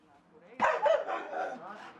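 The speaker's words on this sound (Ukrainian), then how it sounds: "собака бреше" A dog barks in a village yard, giving a short burst of two or three close barks. A faint voice can be heard under it.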